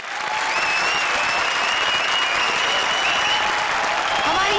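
Sustained audience applause from a comedy stage show with a horror-special theme, steady and dense throughout, with a faint whistle-like tone drifting over the clapping.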